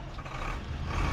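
A lorry pulls away on a high mountain road in freezing cold, a loud, close engine rumble rising steadily over the short stretch.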